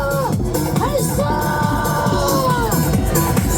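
At a Korean political rally against election fraud, a standing crowd holding pickets high overhead raises a loud, brief shout with overlapping voices and whoops.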